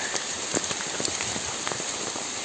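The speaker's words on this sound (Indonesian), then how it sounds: "Kebetulan nyampe sini kok gerimis." Light drizzle falls on a mountain trail near a waterfall during the rainy season, a faint, steady hiss of fine drops with scattered soft taps on nearby surfaces.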